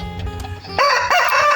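A male Bangkok rooster kept at home crows loudly and close by, one bright strained call rising after a stretch of low clucking and background noise.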